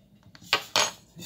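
A spoon clinking against a pan while cupcake batter is mixed: two quick, close metallic scrapes and clinks in a quiet room.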